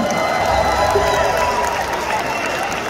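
Concert crowd in New Jersey applauding and cheering as a singer takes the stage at a live show, a steady, loud wash of clapping and shouts filling a large hall.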